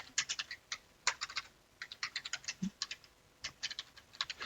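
Bursts of keystrokes on a computer keyboard, quick clattering runs separated by short pauses, close and fairly quiet with no talking.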